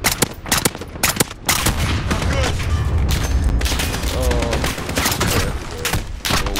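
Heavy video game battle gunfire during a military operation, with dense overlapping bursts of automatic fire and booms running continuously at close range, loud throughout with little pause.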